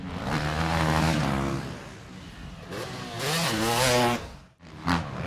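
Motocross motorcycle engines roar and rev loudly on a dirt track, pitch rising and falling as bikes accelerate past, with a brief dip before another surge.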